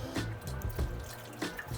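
Hot water poured from a tilted container into a baking pan to make a water bath for low-carb desserts, giving short close splashing pours with brief pauses and no talking.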